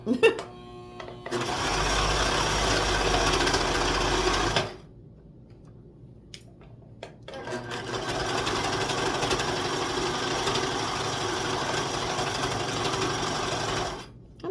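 A serger sewing machine stitches a vintage quilt Christmas stocking in two long, steady whirring runs separated by a quiet pause, loud and close.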